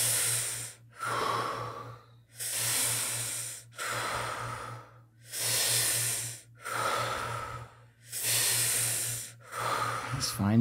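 Deep, slow breathing during a breathwork exercise, roughly six long breaths with airy hissing inhales and exhales in a steady rhythm, close and fairly soft with short quiet gaps between them, no talk.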